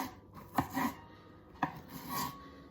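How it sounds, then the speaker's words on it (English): A knife chops food on a board in two distinct close strikes, each followed by a soft rubbing scrape, quiet and alone without talk. "You gotta chop this."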